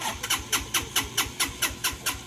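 Motorcycle engine that refuses to run smoothly, firing in a rapid, uneven train of sharp pops about five per second, loud and close, with the misfiring pulses continuing throughout.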